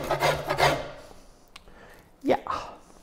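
Short rasping strokes of a hand tool trimming small bumps off a wooden paddle, two quick passes at the start and another pair later, close and fairly loud.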